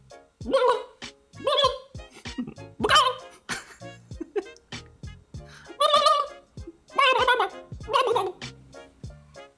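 A human voice imitates chicken clucks and squawks for a Unity video game: about seven loud, close bursts of warbling, throaty calls separated by short gaps.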